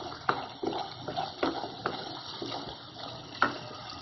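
Soaked chickpeas and their soaking water are poured into a pan of fried masala, giving a continuous watery splashing and gurgling with a few sharper knocks, close and fairly quiet.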